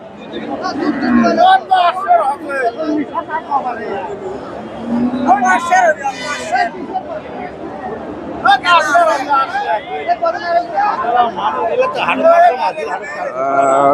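Cows and calves at the Dhap cattle market in Bogura low and moo repeatedly through the crowd, their calls rising over steady market hubbub and nearby voices talking.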